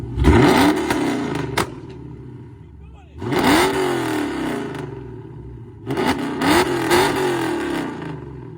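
A Chrysler 300 with a 5.7 Hemi V8 and a stage 2 burble tune revs loudly in three separate bursts, each climbing and then dropping off into popping and crackling, with voices talking over it.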